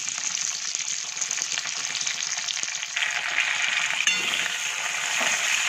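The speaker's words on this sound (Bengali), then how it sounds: "পেঁয়াজ কুচিগুলো দিয়ে একটু ভালো করে আবারও ভাজা ভাজা করে নিতে হবে" Chopped onions frying with potatoes in a pan, a close, even sizzle that grows denser partway through, with light stirring clicks and no talk.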